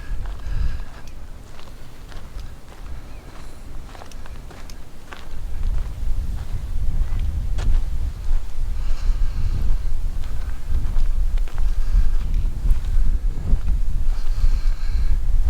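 Strong wind at Kaʻena Point on the O‘ahu coast buffets the microphone in a steady low roar, growing heavier partway through, with occasional faint knocks and footstep-like taps.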